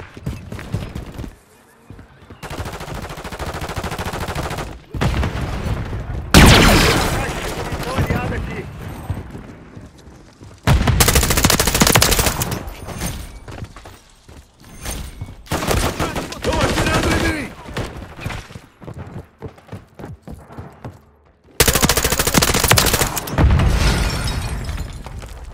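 Bursts of rapid gunfire and loud blasts crackle in repeated volleys in Call of Duty: Modern Warfare 3 team deathmatch, separated by brief lulls, with a voice talking intermittently over the action.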